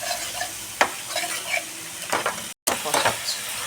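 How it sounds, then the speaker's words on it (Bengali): Spice masala with yogurt being sautéed in oil for a katla fish kalia, a spoon scraping and stirring through a soft sizzle in short irregular strokes, with one brief dropout partway through. "কষাচ্ছি, তেল ছেড়ে দিয়েছে।"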